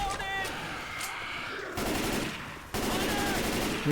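Gunfire from the zombie shooter game Left 4 Dead 2 rattles in sustained, dense bursts, loud and close, with brief breaks between volleys.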